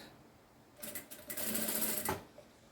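A sewing machine backstitches across a pocket to hold it in place, a short close burst of rapid stitching that runs for about a second and a half, then stops.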